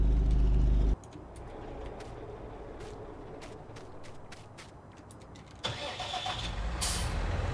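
A truck engine in Farming Simulator 19 cranks and catches, settling into a steady rumbling idle before revving louder toward the end.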